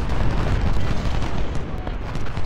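Thick rumbling cannon and gunfire from Ultimate General: Civil War's Fredericksburg battle, loud and steady over a short stretch, with booms blending into a constant wash of distant volleys.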